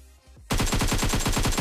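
Rapid automatic gunfire in PUBG Mobile erupts after a brief quiet moment, a dense, loud, evenly spaced burst of shots that keeps going to the end.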